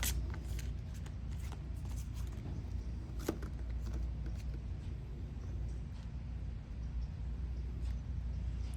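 Soft, continuous papery shuffling of tarot cards, steady throughout, with a few brief sharper riffles over a low background rumble.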